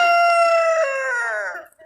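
A rooster on a farm gives one loud, close, drawn-out crow that slides downward and fades, standing alone without talk; faint clucking may sit beneath it.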